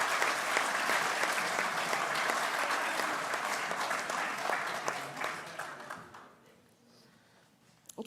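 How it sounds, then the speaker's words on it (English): Sustained applause from a school audience honouring Year 12 subject winners at a valedictory presentation for the Class of 2020, steady and full for about six seconds before thinning out and fading to a few scattered claps. "can we give a massive round of applause to all of our subject winners tonight?"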